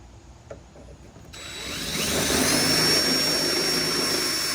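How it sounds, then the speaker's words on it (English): After a brief click, a power drill whirs up to a steady, loud whine and grinds on without pause, close by, drilling two quarter-inch holes in a 16-foot extension pole. "And all we need to do is drill these 2 holes out"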